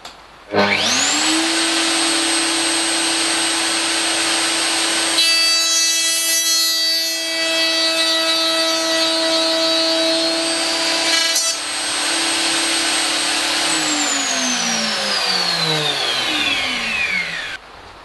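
A power cutter, set to a 6mm depth, cuts a slot in wood for a box jig. Its high, steady whine spins up sharply, holds through the cut with a shift in tone, then winds down.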